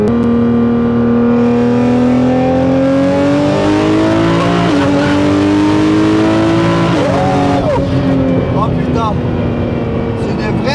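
A 1500-horsepower Nissan GT-R R35 accelerates hard, its engine note climbing loudly in pitch, dropping at gear changes and climbing again, heard close from inside the car.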